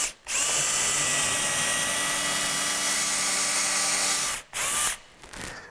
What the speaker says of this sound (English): I can grab back the drill and start drilling around the fastener